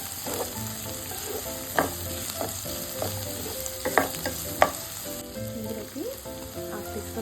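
Okra (bhindi) frying in a generous amount of oil, a steady close sizzle broken by scattered sharp crackles and stirring clatters, with no talk.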